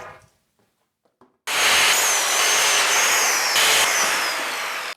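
A power saw cutting 2x2 lumber in a basement workshop, a loud sustained whining buzz that starts abruptly after near silence and runs steadily to the end.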